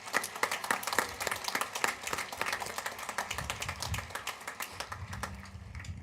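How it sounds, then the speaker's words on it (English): A crowd at the W.F. West High School 2024 graduation ceremony applauds for graduating students, with steady, dense clapping that is moderately loud at first and then thins out, as low murmuring voices rise beneath it toward the end. "Let's give these students a round of applause."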